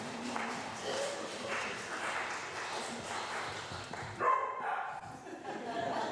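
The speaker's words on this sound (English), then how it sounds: "we've got some well-timed barks in here" Dogs barking during an outdoor blessing of the animals service, scattered barks and yips at a moderate distance under ongoing crowd noise and speech.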